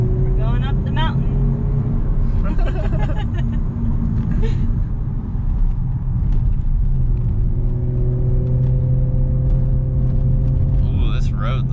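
A 2018 Audi S5 climbs a mountain road, its engine rumbling steadily from inside the cabin with shifts in pitch, while people talk over the drive.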